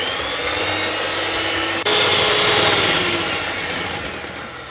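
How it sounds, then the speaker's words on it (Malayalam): An electric mixer beats eggs for a tres leches cake, a loud, steady motor whine up close that shifts pitch briefly after a short break and then slowly fades. "അതിനുശേഷം നല്ലോണം ബീറ്റ് ചെയ്ത് മുട്ട നല്ലോണം പൊങ്ങി വരണം."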